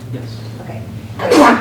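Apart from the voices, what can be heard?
sneeze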